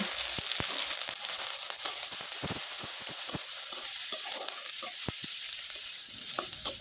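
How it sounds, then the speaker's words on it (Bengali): Chopped onion, garlic, green chilli and ginger sizzle loudly in a pan, with a bright continuous hiss and frequent sharp taps and scrapes as a spatula stirs them. "পেঁয়াজ কুচি রসুন কুচি কাঁচামরিচ কুচি এবং আদার কুচি দিয়ে খুব ভালোভাবে নেড়ে চেড়ে নিব"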